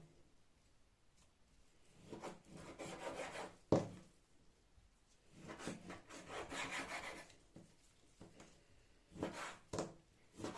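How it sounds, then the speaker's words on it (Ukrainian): A knife slices pork neck into small pieces on a board, with bursts of rasping, sawing strokes and a sharp knock of the blade, close and moderately loud, no talking. "Ошийок нам треба порізати на ось такі кусочки."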